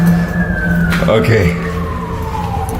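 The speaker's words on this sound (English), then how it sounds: "I'm like, it's an ambulance." An ambulance siren passes near a hiking trail, heard as a steady wailing tone that slowly falls in pitch as it moves away, continuous and fairly loud under background noise, while people talk briefly over it.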